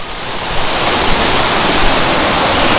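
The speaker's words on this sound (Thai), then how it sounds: "น้ำตกปางสวรรค์นะครับ" Rushing water at Pang Sawan waterfall by a weir in Uthai Thani, a loud, steady broadband roar heard close up with no voices over it.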